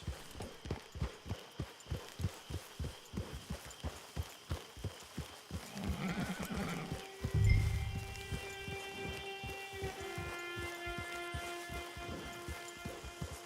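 Steady clip-clop of horse hooves walking at an even pace in the video game Red Dead Online, with a brief louder rustle partway through and a faint tonal hum.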